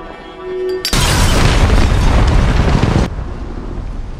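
A huge explosion from The Last of Us episode 2, set off with a lighter, erupts suddenly into a loud, sustained roaring blast lasting about two seconds, then cuts to a lower rumbling aftermath.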